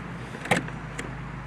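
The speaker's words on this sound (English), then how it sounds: "I'm gonna open the trunk for you here." The trunk of a 2012 Mercedes-Benz E 350 Coupe opens with a faint, brief mechanical latch click followed by a second soft click about half a second later, in a quiet setting.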